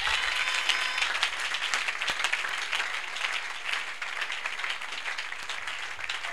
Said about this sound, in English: Now, are you clapping for Jesus?